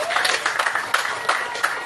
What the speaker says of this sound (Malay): Kita bagi tepukan kepada Haji Asna